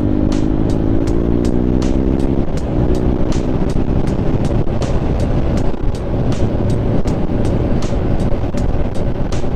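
A Scrambler motorcycle cruising at speed on the road, its steady engine drone heavily masked by loud wind roar, with regular rhythmic ticks throughout and no talk.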